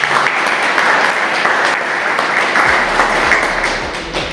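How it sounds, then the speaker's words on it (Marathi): Loud, sustained applause from a crowd of villagers at an NSS residential camp, a dense continuous roar of clapping that holds steady for several seconds before easing slightly. "जोरदार टाळ्या होत्या त्यांच्यासाठी"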